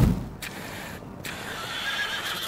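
A horse in the video game Tom the Postgirl whinnies loudly up close, a short shrill neigh with a second burst, against quiet background noise.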